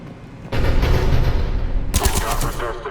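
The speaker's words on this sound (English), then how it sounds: "The cannon fire is clearing the way." Cerberus cannons fire in Mass Effect 3, a dense, loud rumbling barrage that starts abruptly and then surges again with sharper crackling blasts, with no talking.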